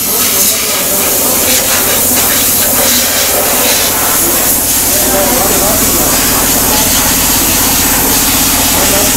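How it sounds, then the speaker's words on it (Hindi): Petrol sprayed onto a Honda CG 125 motorcycle chain to clean it, a loud, continuous pressurized hiss lasting throughout, with a low hum running underneath. "यहाँ पे देखें कि अच्छे तरीके से चेन क्लीन कर रहे हैं।"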